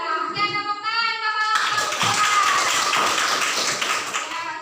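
A classroom group claps for group 2, a burst of many quick hand taps starting after a brief opening of tonal sound and carrying on steadily to the end, fairly close and busy.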